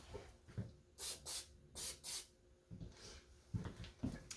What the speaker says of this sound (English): I'm going to go ahead and spray it and get it ready as well.